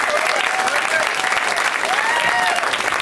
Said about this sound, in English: Finally, after all these years, I got some applause